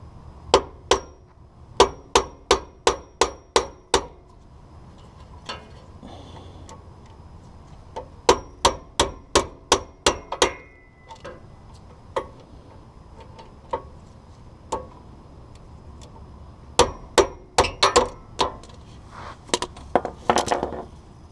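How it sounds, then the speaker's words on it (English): Bursts of sharp metallic hammer taps on a bolt driving out a pin from a car steering rack, quick evenly spaced strikes in groups of six to eight, with pauses and scattered single taps between. "I usually use a bolt that fits it relatively well, and then just my hammer"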